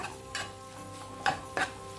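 Halved shallots are stirred and sautéed in a pan for Kuttanadan duck curry. A few quick scraping stirs and clicks sound over a faint, soft sizzle, quiet and close.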